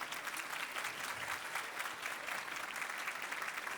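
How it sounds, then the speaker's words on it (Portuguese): An audience at a Portuguese-language executive award ceremony gives warm, sustained applause, a steady wash of many hands clapping, fairly faint and distant, with no voices over it. "a quem pedimos uma calorosa salva de palmas"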